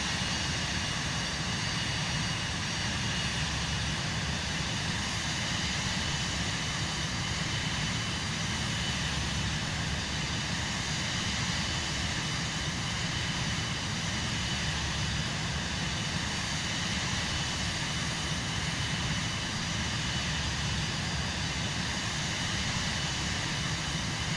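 A light aircraft's engine drones steadily through flight over the Oakland and San Francisco area in Microsoft Flight Simulator 2024, a constant unbroken hum with no talk.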